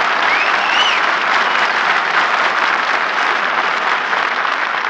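Loud, dense applause from an audience of servicemen at a wartime radio variety show, a continuous roar of many hands clapping at once that stays steady and close throughout, with no talk over it.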